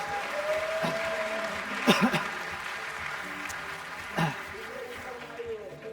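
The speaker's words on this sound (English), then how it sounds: "Round of applause for Anna." Crowd applause at an outdoor science-festival talk at bluedot 2018, welcoming a child volunteer onstage: a quiet, distant wash of clapping with brief voices and some background murmur over it.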